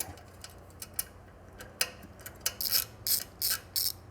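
Screw being tightened on a heat shield clamp of a Triumph Scrambler shotgun exhaust, giving a run of close, crisp ratcheting clicks that grow louder and denser toward the end, with no talk.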